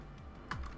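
Keyboard typing while entering a car name in the body shop search of Car Mechanic Simulator 2018, a few soft clicks and then a quick, louder burst of keystrokes near the end, close and brief.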